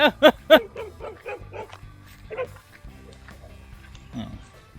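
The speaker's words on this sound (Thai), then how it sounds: "เขาจะประมาณแค่เห่านะครับ" A dog herding cows and calves on a rural Thai farm gives three sharp, close barks in quick succession, followed by softer yips and faint background voices.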